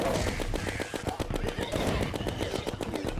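Rapid gunfire with chlorophyte bullets in Terraria, a fast, continuous stream of closely spaced shots over dense background game noise, loud and near throughout with no talk.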